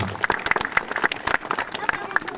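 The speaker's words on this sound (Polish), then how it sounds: "Proszę państwa, brawa dla drugiego półfinalisty" Audience applause for a semifinalist at the final of an individual fighting tournament: brisk, dense clapping from a crowd, with an announcer's voice talking over it.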